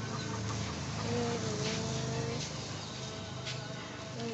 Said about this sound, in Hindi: देखो ये हमारे मुर्गी